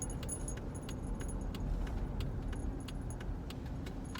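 A car engine rumbles steadily while parking at night at the Ormond Indian Burial Mound, with keys jangling in close, repeated bright clicks over the low hum.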